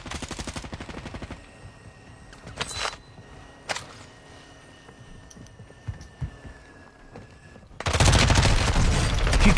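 Gunfire in a shooter video game arrives as a few scattered sharp shots and rapid bursts at moderate level, with a loud dense blast of firing near the end.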